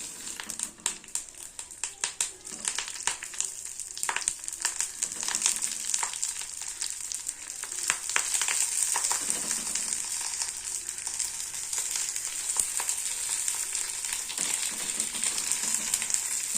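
Bhetki fish wrapped in banana leaf fries in a lightly oiled hot kadai on low gas, a continuous close sizzle with crinkling leaf sounds and light clicks as pieces are laid in, no talking.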